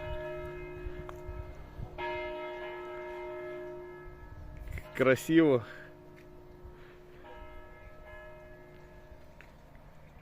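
A Christmas church bell rings out briefly with a few bright, resonant strikes amid steady background hum, while a person speaks softly around it.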